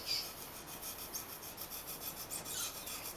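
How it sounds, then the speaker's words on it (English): A hacksaw blade cuts into a model aircraft wing, giving a fast, steady rasping scrape of repeated short strokes, close up and alone. "cut into it with a hacksaw blade till you get a gap"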